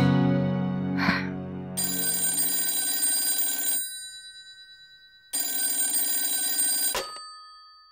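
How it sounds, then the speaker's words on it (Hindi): Home landline telephone ringing in two long electronic trills separated by a short gap, loud and close with no talking. "एक बार घर के नंबर पे करती हूँ।"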